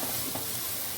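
Chopped onions frying in a pan for an aloo shimla mirch curry, a steady close sizzle and hiss with faint stirring, no one speaking.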